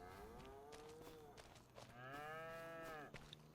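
Cattle in Farming Simulator 25 moo twice in quick succession, long harmonic calls heard fairly close over faint background ambience.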